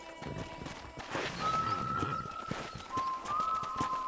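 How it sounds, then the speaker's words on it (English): Rhythmic horse hoof clip-clops at a steady gait in Red Dead Redemption, close and clear, with a high whistling tone drifting over them. "let's see if you can still ride a horse."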